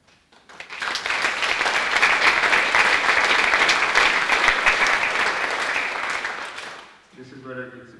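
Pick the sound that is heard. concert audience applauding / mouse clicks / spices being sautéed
concert audience applauding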